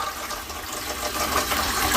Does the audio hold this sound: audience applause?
no